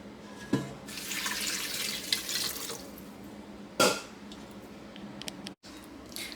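Cold tap water runs into a bowl to rinse homemade butter in a kitchen sink, a steady hiss of flow that stops and restarts with a few clunks, fairly close and moderately loud.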